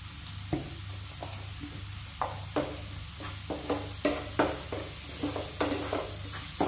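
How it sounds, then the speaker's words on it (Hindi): Chopped onions frying in a pan for Goan-style pav bhaji, a steady soft sizzle broken by repeated clattering stirs from a spoon at an uneven rhythm, close by. "आनी बरें तळसून घेवया."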